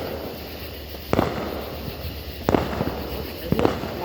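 Three sharp firework bangs go off at intervals over a steady outdoor background hiss, each a brief loud crack.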